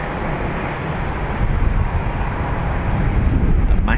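WestJet Boeing 737 MAX 8 departing Dublin Airport, a steady broadband roar of jet engines that swells slightly, heard from a distance outdoors with no talking.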